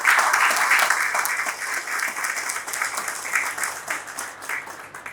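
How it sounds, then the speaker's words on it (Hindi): An audience at a felicitation ceremony for a retiring income tax principal commissioner claps steadily, a dense, moderately loud round of applause with a slightly uneven pulse. "उसके लिए सबसे ज्यादा उनको तालियां हो।"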